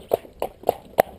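Four evenly spaced clip-clop hoofbeats from a small horse walking, close and distinct with brief gaps between each strike and no talking.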